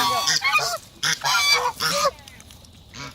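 A goose honks repeatedly while being fed alongside ducks, several loud, close nasal calls in quick bursts, then a pause and one more honk at the end.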